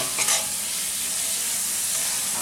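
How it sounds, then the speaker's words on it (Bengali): Boiled eggs are sautéed in a pan of masala for egg curry, heard as a steady close sizzle with a couple of soft utensil scrapes near the start. "ডিমটাকে একটু ভালো করে কষিয়ে দিই।"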